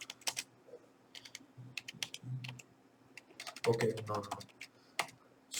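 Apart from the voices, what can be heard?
typing on a computer keyboard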